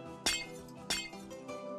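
Glass blocks being placed in Minecraft Bedrock make two sharp, bright clinks about half a second apart, then a softer third tinkle, all close and clear over a quiet ringing background.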